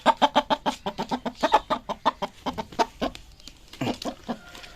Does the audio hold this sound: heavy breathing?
no